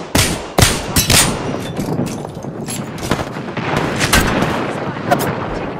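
Rapid gunfire in the Apex Legends battle royale, a cluster of sharp, loud shots and bursts with clanging impacts, close and dense across the whole stretch, with faint game voice lines mixed in.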